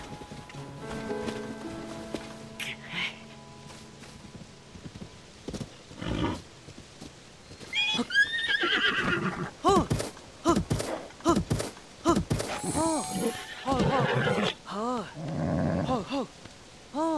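A horse in Tears of the Kingdom whinnies and snorts amid hoof thuds and scattered game effects, with several distinct neighing calls in the latter half, fairly faint overall.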